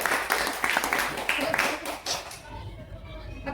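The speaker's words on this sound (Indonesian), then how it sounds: "Oke, tepuk tangan buat Remigiana." A classroom of students claps for a classmate, a short burst of brisk, uneven applause that breaks off after a couple of seconds, with voices and room noise continuing under it.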